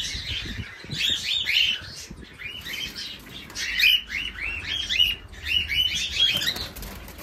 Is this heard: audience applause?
no